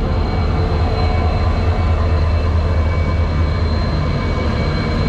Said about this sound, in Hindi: बैंगलोर की तरफ जाने वाली अगरतला SMVT हमारे सामने से गुजर गई है अभी।